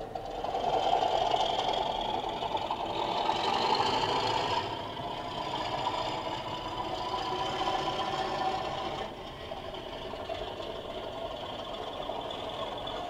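A steady diesel engine drone with a mechanical hum from a model locomotive's Class 37 sound profile, its pitch and intensity shifting slightly as it revs and settles, continuous throughout.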